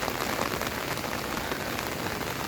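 Steady rain pours down, a dense continuous patter of drops on a hard surface, close and even throughout with no voices.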